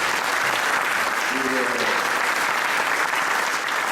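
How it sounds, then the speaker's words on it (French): Sustained applause from an audience at a Paris concert event, applauding an imam, a dense steady wash of clapping heard throughout with a brief voice underneath. "je voudrais ici qu'on applaudisse l'imam Chalboumi"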